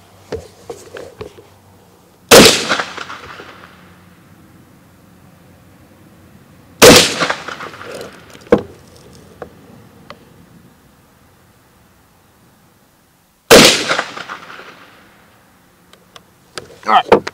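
Three loud, sharp gunshots are fired at a target on a shooting range, spaced several seconds apart, each with a short echoing tail, with quieter clanks and handling noises between them.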